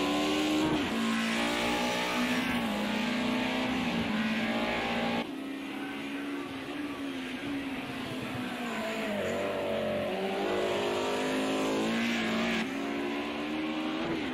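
Race cars lapping a road course in Project Cars 2, engines droning loud and steady throughout with pitch sweeping up and down through gear changes, tires hissing underneath, and no voices.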